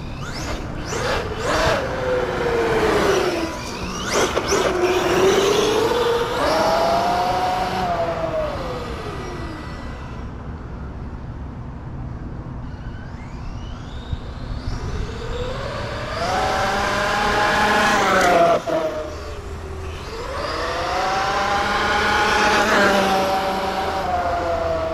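An Arrma Outcast 8S EXB RC car with a Hobbywing Max 6 1100KV motor running on 6S, its electric motor whining up and down in repeated rising and falling sweeps, fairly loud and close, with no talk.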